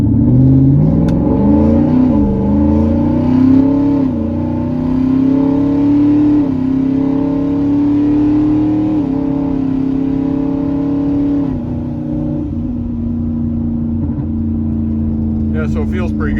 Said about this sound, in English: I do just want to do a real like half throttle pull